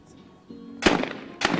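Two sharp, loud shotgun blasts ring out about half a second apart at a skeet shooting World Cup final in Cyprus, each with a short ringing decay.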